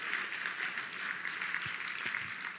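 Steady applause from an audience at a Heartland Alliance International fundraiser, a dense crowd clapping at moderate volume for a few seconds without pause.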